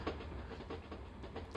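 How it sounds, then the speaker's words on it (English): A small tourist train in Bulgaria rumbles along with a steady low drone and a faint rhythmic clatter of wheels over rail joints, fairly quiet and without voices. "Then we went on a little train ride"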